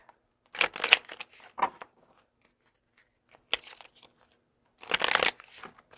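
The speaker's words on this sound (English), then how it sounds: "Okay, shuffle it up. Okay, I will shuffle it up." Tarot cards being shuffled in a few short bursts of papery riffling and crinkling, close and fairly quiet, with pauses of near silence between them.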